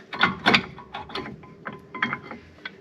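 A size 7 Allen key working loose the brake caliper bolts on a BMW E61 5 Series, giving a series of short metallic clicks and ratcheting scrapes, close and fairly crisp.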